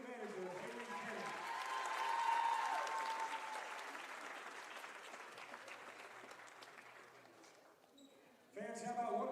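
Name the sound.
basketball fans applauding on senior day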